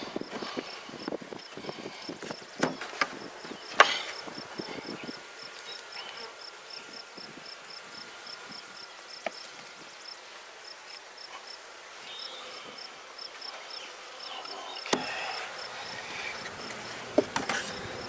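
A swarm of honey bees on a brood frame hums as a faint, continuous buzz with scattered nearby clicks and handling knocks, quiet and fairly close, with no speech.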